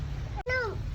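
A single short cat meow, close and fairly faint, rises and falls over a quiet low background hum.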